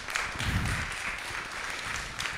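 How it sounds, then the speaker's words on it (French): Applause for Jean-Luc Combrisson at the close of a public conference-debate on Essonne river residents, a steady wash of clapping from a seated audience that holds evenly for a couple of seconds. "on va applaudir Jean-Luc Combrisson, on va le remercier"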